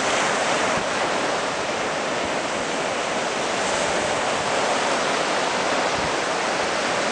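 Rough, angry sea with waves breaking in a constant loud wash of surf and wind close to the shore, no voices.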